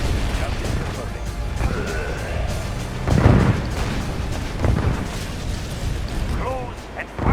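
Artillery fire and explosions from the real-time strategy game Yuri's Revenge, a dense stream of game combat noise with a loud booming burst near the middle and further sharp blasts, layered under clipped unit voice responses.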